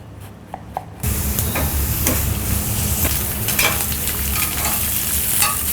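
Sliced cheese and zucchini dropped onto a hot grill burst into a loud, steady sizzle after a second of quiet, with scattered crackles and scraping over it.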